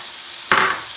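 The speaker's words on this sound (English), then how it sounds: "I'm going to go ahead and add my mushrooms" Mushrooms land in a hot pan for a veggie teriyaki rice bowl, setting off a sudden loud sizzle with a brief stir that fades slightly over a second, heard alone.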